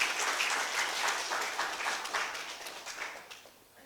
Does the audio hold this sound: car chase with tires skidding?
no